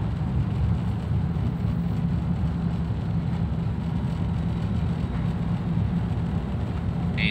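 A 2009 Daihatsu Terios engine pulls uphill in third gear, a steady, low, even drone heard from inside the cabin that holds without letup throughout.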